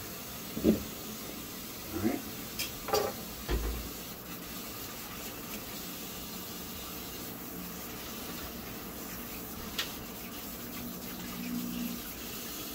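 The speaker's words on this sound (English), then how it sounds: "So, we're getting the sink back up now. Forgive me for my waste of water." Tap water runs steadily into a kitchen sink being filled for washing greens, a soft continuous gush with a few knocks and clatters early on and a brief spoken word.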